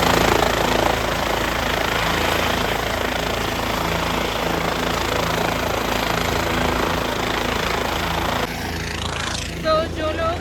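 Helicopter at Kedarnath, a loud continuous rotor and engine drone that stays close and steady throughout, with a person talking over it near the end.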